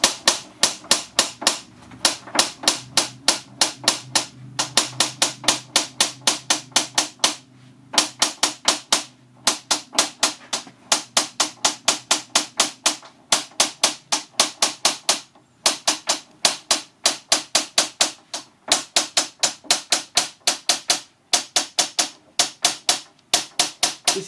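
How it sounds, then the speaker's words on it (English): A hammer guided along a workbench taps the underside of scored glass to run a cut for thin strips, making crisp, rapid, evenly spaced clicks in long repeated runs with brief pauses between them, close and clear with no talking. "I'm using the bench as a guide for the hammer, which should put the hammer directly under the cut."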